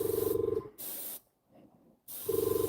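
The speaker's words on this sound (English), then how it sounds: "How's the volume, by the way, of the airbrush?" An airbrush sprays paint in two steady hissing bursts with a short quiet gap between, and a mechanical buzzing hum sits at the start and end.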